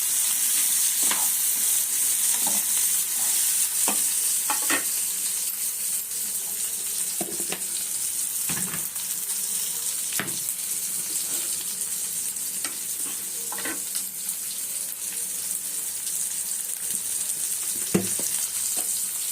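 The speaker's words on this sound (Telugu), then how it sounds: "ఇవి కొంచెం వేగేదాకా చూసుకోండి" Raw tamarind chutney ingredients fry in a pan with a constant close sizzle, broken by scattered scrapes and taps from a spoon stirring them, with no talking.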